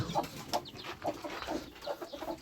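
A hen and her half-grown chicks cluck and chirp in short, repeated calls spread across a farmyard, with several overlapping voices at moderate distance.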